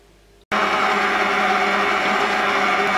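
An OBERHOF Brett C-34 stand mixer starts up on low speed to knead white bread dough, running as a loud, steady motor whir after a brief quiet moment, with no talking.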